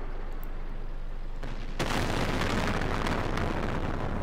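A tank cannon fires in World of Tanks: a loud, close, broadband boom that bursts in sharply and rolls on with a sustained rumbling roar, preceded by quieter game noise.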